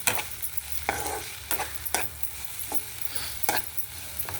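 Onions and tempering spices frying and sizzling in a pan, with a steady hiss broken by repeated bright scrapes and clinks of stirring.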